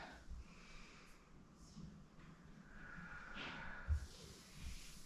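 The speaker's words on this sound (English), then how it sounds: "We'll take a big breath up." A slow, deep breath is drawn and released during a mobility workout, with soft, close airy inhales and exhales and a brief snort-like puff near the middle.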